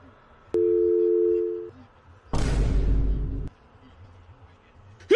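In a scary video game, a phone signal plays as a steady tonal beep, then a second, louder buzzing tone holds for about a second before cutting off, with quiet room ambience between.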